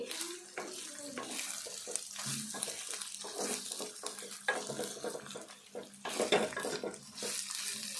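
Bitter gourd pieces frying in a steel pan on low heat are stirred continuously, giving a steady sizzle with repeated scraping and clinking of the spoon against the steel, close and moderately loud.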